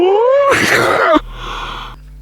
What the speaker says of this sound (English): I need to sneeze, hold on.